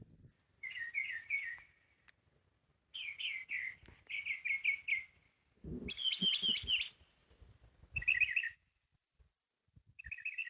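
A small bird chirps in short repeated bursts of quick, bright notes, separated by pauses, with faint low rustling underneath.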